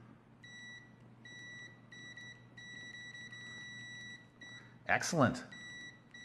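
A UNI-T UT139S multimeter in continuity mode gives intermittent high electronic beeps in short bursts, followed by a man's brief exclamation.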